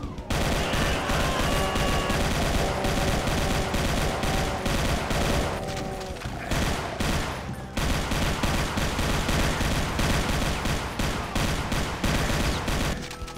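Sustained rapid gunfire from a wide-spread gun in Brutal Doom on a Wolfenstein map, a continuous loud burst of shots hammering on for over thirteen seconds with only a brief break midway.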